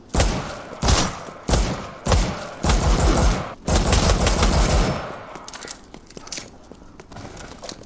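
Dual-wielded guns firing in Resident Evil Re:Verse: loud, rapid bursts of automatic fire in repeated half-second volleys, then a long sustained burst that fades into quieter scattered shots.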